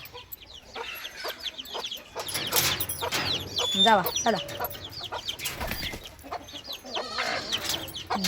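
Hens clucking and squawking close by in a lively flock, with a person calling out over the birds.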